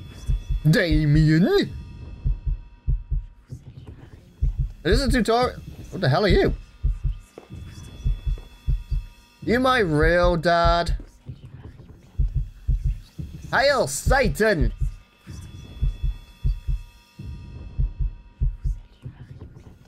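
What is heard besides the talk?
heartbeat sound effect in the video game Lucius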